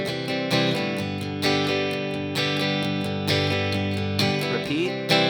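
A guitar strums the B section chords of a song in a steady, even rhythm with regular strokes and chord changes, close and moderately loud, with no talk.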